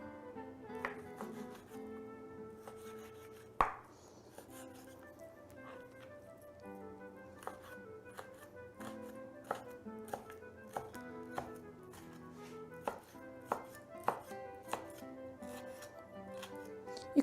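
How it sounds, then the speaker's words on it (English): A knife minces lean beef top round on a board with a steady run of crisp, close chopping taps, speeding into quicker strikes later, with one loud knock early on over faint background tones. "I'll mince the meat."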